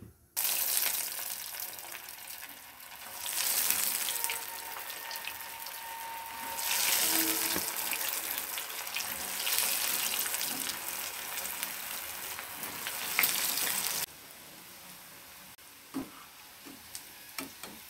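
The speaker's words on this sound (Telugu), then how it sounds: "మొత్తం అప్లై చేసుకొని ఆయిల్లో డీప్ ఫ్రై చేసుకోవాలి." Cheese balls made with sweet corn and meal maker deep frying in hot oil, a hissing, bubbling sizzle that surges loudly in waves before settling into a quieter, steadier crackle with scattered pops.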